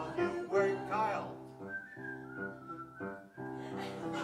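Someone whistles a tune, a clear close melody of sustained and wavering notes over a faint steady hum.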